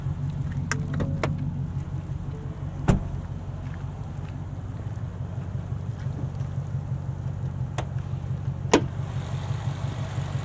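Supercharged 5.2 liter V8 of a 2023 Ford F-150 Raptor R idling steadily under the open hood, a low constant rumble with a couple of sharp clicks and no talk.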